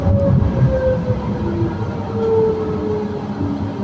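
A tram rumbles steadily past at close range, with a continuous low roar and faint high squealing tones from the wheels throughout.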